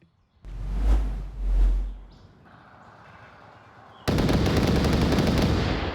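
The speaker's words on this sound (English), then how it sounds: "Gunshots already ringing out." Gunfire in an online match on the Suburbia map: two heavy booming shots, then quieter distant fire, then a loud sustained burst of noisy rapid fire or an explosion close by.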